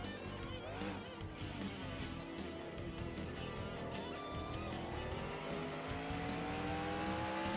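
A race car in a racing video game set at the Grand Prix de Trois-Rivières accelerates hard down a straight. Its engine whines and climbs steadily in pitch through the gears, loud and continuous, with a brief shift near the start.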